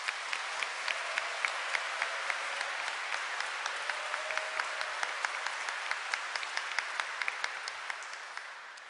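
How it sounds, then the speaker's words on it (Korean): A congregation at a 2015 Seoul archdiocese youth Mass applauds the priests: dense, steady clapping fills the space for several seconds with a few sharper claps standing out, then tapers slightly near the end. "신부님들 위해서도 박수 한번 보내주셨으면 좋겠습니다"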